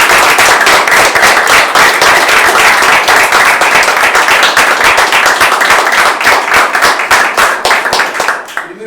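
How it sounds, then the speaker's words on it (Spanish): An audience at a political talk applauds, a loud, dense burst of clapping from many hands that holds steady for several seconds before starting to thin out at the end. "Un aplauso"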